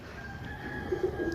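Pigeons kept by a fancier give a few soft, low coos close by, rhythmic murmurs over a steady background hum with no talk.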